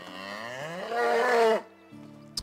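A cow or stately bull in the medieval farming game Medieval Dynasty lets out one close, loud, drawn-out moo rising then cutting off, followed by a quieter low hum.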